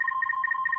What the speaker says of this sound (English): oh, and now that's the phone